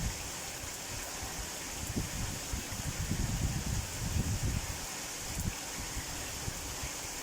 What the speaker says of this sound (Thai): ฟังเสียงฝนเอากันแล้วกันพี่น้อง